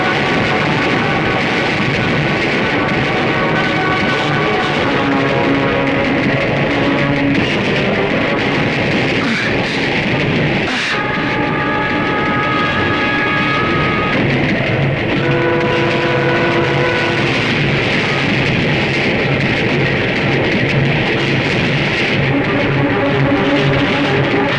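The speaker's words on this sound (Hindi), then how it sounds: "ये ट्रेन रुकी क्यों नहीं?" A train rushes past without stopping in a Hindi action film scene, a loud, unbroken rumble with shifting metallic whines and screeching tones that holds steady for about twenty-five seconds without speech.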